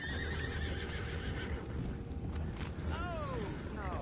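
Horses in the video game Red Dead Redemption 2 whinny and neigh, with hooves clip-clopping and a creaking wagon under steady outdoor ambience, a rising-and-falling neigh standing out near the end.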